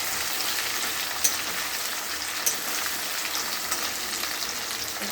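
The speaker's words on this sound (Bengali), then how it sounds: "ভালো করে নেড়ে নিতে হবে।" Food fries in a pan while being stirred, a constant close crackling sizzle with a couple of sharp clicks from the utensil partway through.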